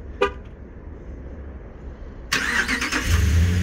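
A 2019 Ram 1500 pickup starts by remote start: a short chirp, then the engine catches abruptly and settles into a steady idle.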